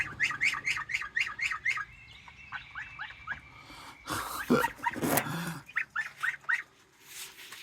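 Backyard chickens at feeding time, clucking and calling in quick repeated bursts nearby, with a louder flurry of squawks and movement partway through, recorded outdoors on a rainy day.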